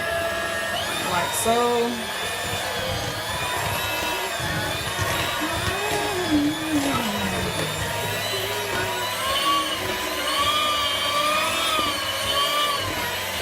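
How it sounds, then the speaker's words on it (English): Electric mixer whirring steadily as it blends powdered sugar into cream cheese and butter for pumpkin spice cupcake frosting, a continuous motor drone with someone talking over it throughout. "we're mixing the last little bit of powdered sugar in with the cream cheese and the butter"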